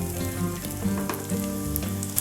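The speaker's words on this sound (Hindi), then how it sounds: "प्याज को हल्का सा सॉफ्ट होने तक भून लेते हैं" Chopped onion sizzles in a pan with ginger and garlic, a steady close frying hiss with faint stirring, no talking.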